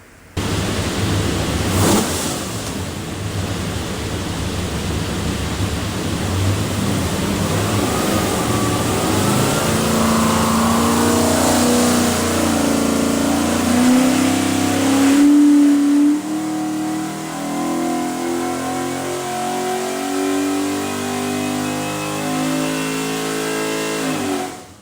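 A 591-horsepower stacked 427 Windsor V8 built for a '69 Mach 1 Mustang runs hard on a dyno, climbing from a rough idle into a loud, sustained rising rev before dropping off and winding down.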